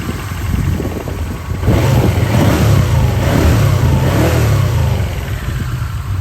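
A four-cylinder engine runs steadily, then revs up and holds at higher speed before easing back, loud and close with no talking over it.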